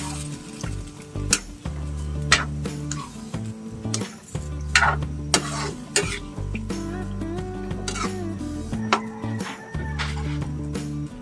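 Pork afritada sizzling and frying in a pan, stirred with repeated scraping strokes and loud clattering bursts, together with occasional coughs close by.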